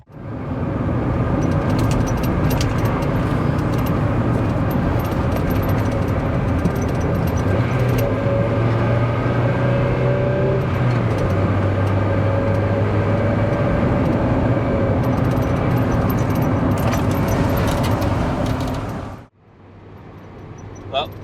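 Steady in-cabin engine and road drone from a Mazda MX5 on a test drive, a loud continuous hum with a shift in pitch midway, cutting off abruptly near the end into quieter background.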